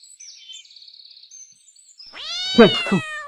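Faint bird chirps, then a single loud, drawn-out cat meow close by.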